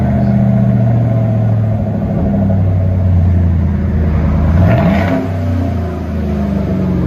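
A 2015 Chevy Silverado Z/71 LTZ with a 5.3L V8 and a full custom dual exhaust rumbles loudly nearby, holding a deep idle and then rising in one rev before settling back.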